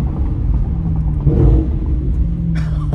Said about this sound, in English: Listen to these downshifts.